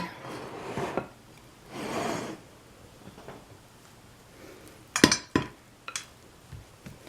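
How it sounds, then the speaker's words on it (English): Spoon scraping and clinking against a pan while sticky rice crispy treat mixture with white chocolate and candies is spread out, scattered soft scrapes and a few sharp clinks, close and quiet. "Time to spread them into the pan."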